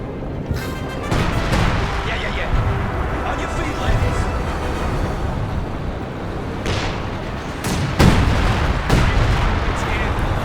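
Artillery barrages pound a Company of Heroes 2 battlefield in a dense, continuous rumble of shell blasts, with sharper explosions standing out near the end, while a voice talks underneath.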